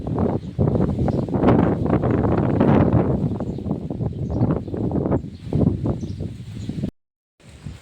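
Steady wind gusting and rustling across the microphone, loud and continuous, with a brief dropout near the end.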